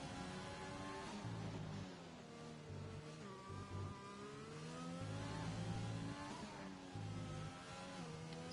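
A Formula 1 car screams through a flying lap around Hungary in F1 2020, its engine note rising and falling with repeated upshifts and downshifts, loud and continuous without any voices.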